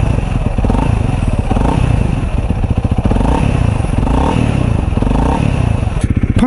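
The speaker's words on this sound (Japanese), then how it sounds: "意外とねエンジン音がなかなかいいんですよね。" A Honda CRF250L motorcycle engine runs steadily and loudly at close range, a continuous rhythmic idle with light mechanical clatter and brief revs, with no talking over it.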